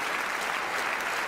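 Studio audience applause for Paddy on a parish quiz show, a dense steady wash of clapping throughout.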